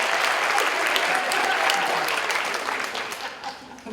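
An audience at a national volunteering conference panel, with a cheer squad, claps loudly and steadily before the applause slowly tapers off, with some voices mixed in.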